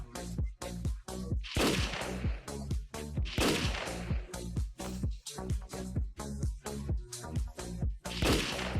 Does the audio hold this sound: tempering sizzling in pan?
no